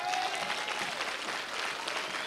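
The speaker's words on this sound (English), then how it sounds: "Oh, clap your hands, all you people." A church congregation clapping hands during a service, brisk crowded applause that stays steady throughout, with a brief tonal voice or sung note faintly underneath at the start.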